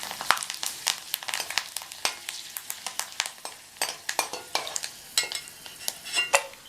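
Dried cluster bean vathal frying in a little oil, busy and uneven with frequent spatula scrapes and clatter over a light sizzle, close and continuous.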